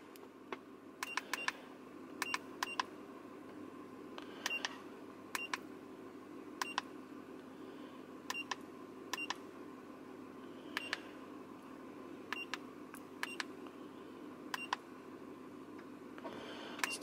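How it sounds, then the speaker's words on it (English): Launch Creader 5001 OBD scanner emitting short electronic beeps, singly and in quick pairs or triplets at irregular intervals, over a quiet background hum. "Get rid of the beeper for one."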